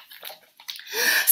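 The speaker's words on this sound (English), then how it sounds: "Splash!" Water splashes in a bathtub, a short burst of sloshing and spattering that grows louder toward the end.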